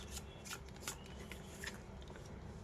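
A deck of tarot cards is shuffled and drawn by hand, giving soft, close riffling and flicking sounds in a few short bursts at low volume.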